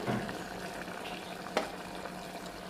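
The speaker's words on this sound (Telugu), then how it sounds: "ఇప్పుడు దీంట్లో 1 స్పూన్ మసాలా కారం వేస్తున్నాను, కొంచెం ఆయిల్ వేస్తున్నాను" Cooked chicken frying in a pan with masala chili powder and a little oil, a continuous close sizzle with a sharp utensil tap midway and light stirring scrapes.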